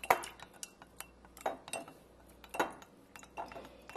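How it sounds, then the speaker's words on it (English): A metal utensil stirs herbal sleep balm in a container, giving several sharp clinks and scrapes spaced irregularly, close and fairly quiet with no voices. "give it a good stir"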